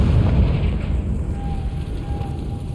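A deep rumbling blast from the Confringo explosion spell in Hogwarts Legacy on PS5, a loud low boom that fades gradually over a few seconds.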